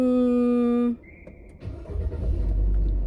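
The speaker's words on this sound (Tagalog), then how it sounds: "mag-i-start lang ako ng sasakyan" A car engine cranks and catches after a short electronic chime, then settles into a close, steady idle rumble.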